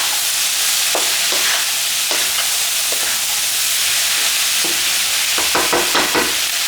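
Vegetables stir-fried quickly in a wok with salt and white pepper, a loud bright sizzle throughout and repeated scraping strokes of the spatula, busier near the end.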